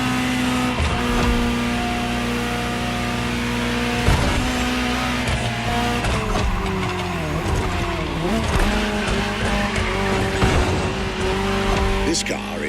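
Ferrari GTO, the Gran Turismo Omologato special version of the 308 GTS, driving in The Crew Motorfest racing game: a steady, loud engine drone with shifting pitch and brief tire squeal, under continuous music or game sound.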